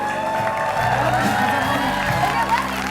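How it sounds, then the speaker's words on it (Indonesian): A studio audience on a rooftop talk show claps and cheers for guest twins, blended with crowd noise and a musical bed, while voices carry over it. "Tepuk tangan untuk Kijong dan Nena"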